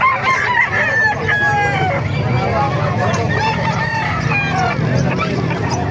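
Roosters crow repeatedly over a constant din of market crowd noise and talk in Calumpit, Bulacan.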